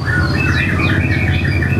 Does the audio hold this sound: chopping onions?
no